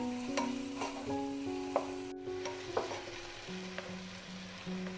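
Chopped tomato fries with onion masala in a pan for chicken vindaloo, a soft steady sizzle with light stirring taps beneath a melodic tune.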